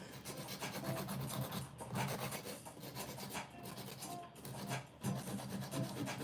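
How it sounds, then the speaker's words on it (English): An 80 grit nail file rasps back and forth across a practice nail on a practice hand, a close, steady scratchy rubbing in short repeated strokes with brief pauses. "This is an 80/80 grit nail file that I'm using."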